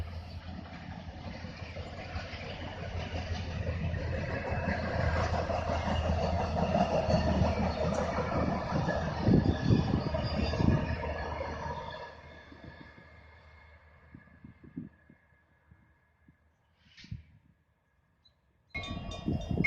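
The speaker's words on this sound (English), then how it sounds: "we heard a train, and we caught it on video here," A railway track-geometry inspection train rolls past close by, a loud sustained rumble and clatter of wheels that fades after about twelve seconds, leaving quieter scattered noises.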